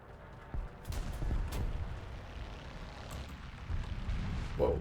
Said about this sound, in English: He's getting shot at.